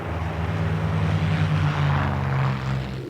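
A P-51 Mustang propeller fighter's piston engine drones steadily and loudly with a strong low harmonic hum, a sustained aircraft roar with no speech.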